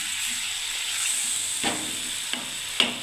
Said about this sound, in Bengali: এই ছানার জলটাই আমি দিচ্ছি বন্ধুরা